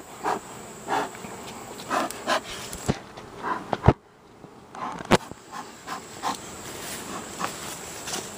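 Honey bees buzzing around hives during late-summer hive work, a continuous insect drone with swelling passes close by, broken by occasional clicks and knocks.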